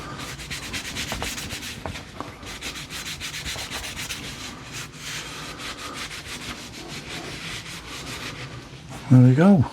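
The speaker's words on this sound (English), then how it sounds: "just going to put a bit of wax actually on the metal." Wax being rubbed onto the metal shaft of an old tractor screwdriver with a cloth, producing a continuous close scratchy rubbing with rhythmic strokes, ending with a brief louder knock.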